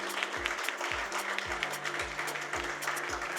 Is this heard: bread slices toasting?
no